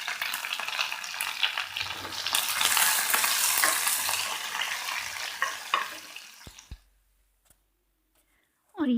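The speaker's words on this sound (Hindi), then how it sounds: "ऑनियन को मैं ज़्यादा ब्राउन नहीं करूँगी, हल्का सा ही इसको ब्राउन करेंगे" Onions browning lightly in a pan give a steady loud sizzle with stirring scrapes and clicks, then the sound cuts off abruptly near the end, leaving near silence.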